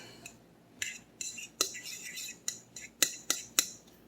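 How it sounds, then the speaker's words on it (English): A utensil stirring and scraping egg salad with jalapeno and scallions in a bowl, giving about ten short, crisp clicks and scrapes at an uneven pace, close and fairly quiet, with no talking. "All right, let's mix this up a little bit."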